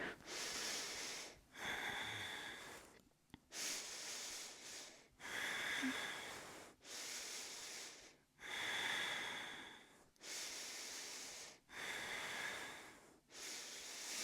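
Deep breathing held in a yoga warrior 2 pose: slow, loud, close inhales and exhales through the nose, about eight long breaths separated by short pauses.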